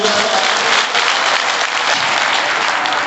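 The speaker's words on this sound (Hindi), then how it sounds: "अपने लिए ताली बजाओ भैया, इतने सारे लोग," Dense, sustained applause from a large audience at a religious discourse during Navratri, a continuous loud clapping that fills the whole stretch with no clear voices over it.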